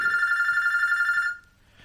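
A telephone rings with a steady, close electronic trill for just over a second, then cuts off abruptly, leaving a quiet room behind it.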